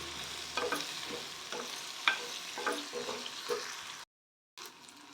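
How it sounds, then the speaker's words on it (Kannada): Byadagi red chillies roasting and being stirred in a pan on medium flame, a soft steady sizzle broken by regular scraping strokes, fairly close, with a short silent gap near the end. "ಮೀಡಿಯಂ ಫ್ಲೇಮಲ್ಲಿ ಒಂದು ಮೂರರಿಂದ ನಾಲ್ಕು ನಿಮಿಷ ಚೆನ್ನಾಗಿ ರೋಸ್ಟ್ ಮಾಡ್ಕೊಳ್ಳಿ"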